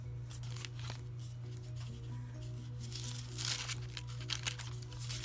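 Thin dollar-store wax paper is handled while working on an altered book, giving repeated close crinkles and rustles that swell louder toward the end over a low steady hum, without speech.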